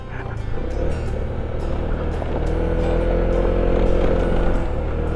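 A motorcycle rides along an off-road mountain track in Nueva Ecija, its engine droning steadily and loud throughout, rising a little in the middle with rough road noise underneath.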